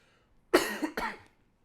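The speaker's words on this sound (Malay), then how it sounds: "Cikgu batuk pula ya." A teacher coughs during a science lesson: two close, dry coughs in quick succession, then quiet.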